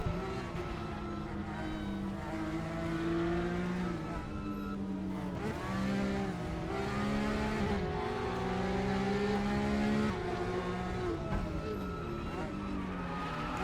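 Porsche Carrera Cup race cars sliding sideways on track at Twin Ring Motegi, a steady loud engine drone with shifting pitch throughout, overlaid by continuous race commentary.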